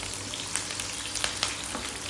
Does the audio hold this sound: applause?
no